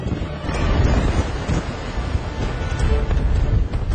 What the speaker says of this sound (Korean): 상상을 초월하는 바람과 파도입니다.